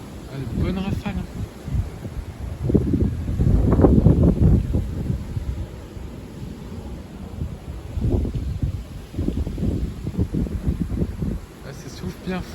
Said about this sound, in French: Ah, ça souffle bien fort.